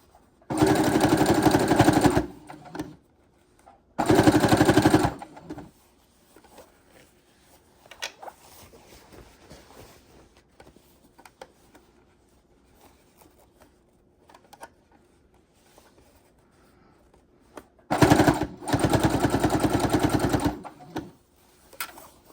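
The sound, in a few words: sewing machine stitching a row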